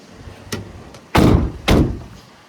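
Rear doors of a van slammed shut one after the other, two loud solid thuds close together after a faint earlier click, with no talking.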